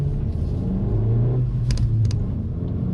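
A 2024 Honda Civic Si engine accelerating, a steady low rumble heard from inside the car with a rising hum as it gains speed, plus a couple of brief sharp clicks near the middle.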